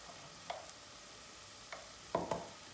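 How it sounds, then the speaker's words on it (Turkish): Tomato paste, flour and mince sauté over low heat for rice soup, with a faint low sizzle under a handful of distinct spoon-against-pan scrapes and taps. "Salçayı, unu, kıymayı kısık ateşte şöyle az bir kavuracağız."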